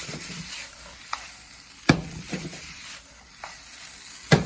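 Chicken chowmein sizzles loudly in a hot pan as a spatula stirs and tosses it, with several sharp metallic scrapes and clanks spaced over a continuous hiss.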